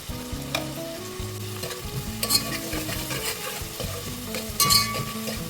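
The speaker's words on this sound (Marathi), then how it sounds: "आता हा कांदा आपण चांगला परतून घेऊया।" Onion with salt sautéing in a pan, a steady crackling sizzle under repeated scraping stirs of a spatula, close and continuous with no talk.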